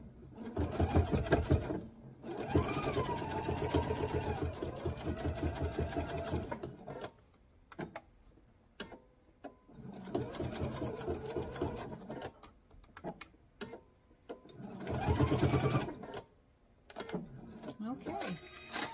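A sewing machine stitches down a mesh tote and reverses back, three separate bursts of close, loud whirring split by pauses, with a person talking during the gaps.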